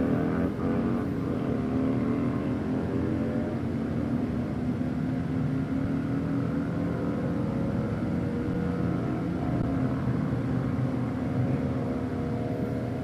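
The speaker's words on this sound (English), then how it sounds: "So let's see if these Harleys are going to go fast again." Harley bagger motorcycles drag race at a Wednesday night drags event, giving a loud, steady engine roar with rising revving tones that lasts the whole stretch without a break.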